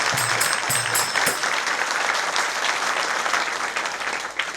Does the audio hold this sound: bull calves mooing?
no